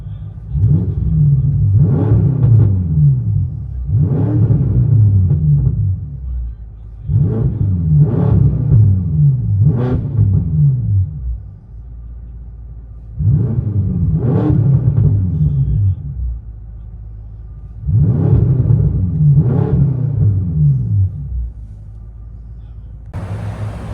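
A BMW M6 twin-turbo V8 with catless straight pipes, heard from inside the cabin, revs in repeated loud bursts over a deep idle rumble. Roughly six rises and falls come in a steady rhythm.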